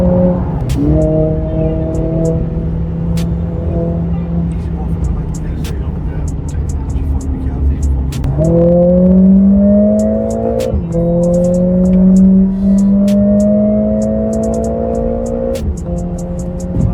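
A 500 bhp Mercedes CLA45S drives at night, its engine droning loud and close with strong rising tones through gear pulls, a dip, then another climb, plus brief clicks and knocks over the steady engine note.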